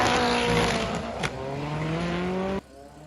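A Volkswagen drag car launches and accelerates hard down the strip at the Summer Nationals, a loud sustained engine roar rising through the gears before cutting off abruptly near the end.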